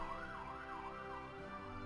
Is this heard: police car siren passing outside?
yes